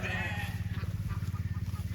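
Sheep bleat in a farm paddock, with several overlapping wavering calls close by over a steady low rumble and rapid rhythmic pulsing, loud and continuous for two seconds.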